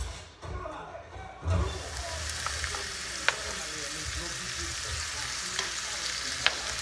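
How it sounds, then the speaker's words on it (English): Chicken sizzles steadily in a pan of butter and oil seasoned with lemon pepper, a continuous close frying hiss with occasional small pops and a brief stir near the start. "So while it's just frying up"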